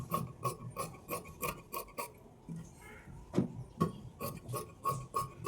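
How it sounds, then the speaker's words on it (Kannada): Scissors cutting through blouse fabric during tailoring, a rapid series of crisp rasping snips in quick rhythm with a brief pause midway, close and fairly clear with no talking. "ನೋಡಿ, ಈಗ ನಾನು ಇದನ್ನ ಕಟ್ ಮಾಡ್ಕೊಳ್ತೀನಿ."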